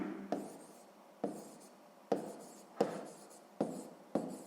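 A pen writes out a sixth-grade math exercise by hand, giving a run of about six scratchy strokes with short pauses between them, close and fairly quiet with no talking.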